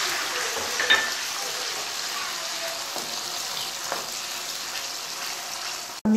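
Garlic ginger paste frying in oil for a restaurant-style boneless handi, giving a steady broadband sizzle that holds evenly throughout, with a few faint scrapes and no talking.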